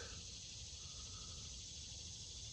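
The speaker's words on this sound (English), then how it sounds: "Cicadas are already making noise." Cicadas and crickets buzz at a humid summer-morning campsite, a steady high-pitched drone that is faint and continuous, with no talking.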